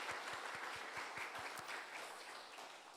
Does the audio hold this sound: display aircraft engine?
no